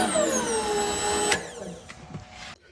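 The knee power feed motor on a PM-1054 mill winds up to full speed with a rising electric whine, then cuts off and spins down into quieter clicks and clunks.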